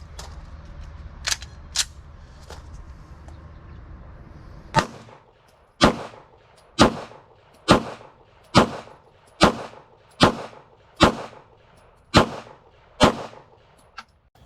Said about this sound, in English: Now we're going to run the Canik TP9 SFX, 10 rounds through this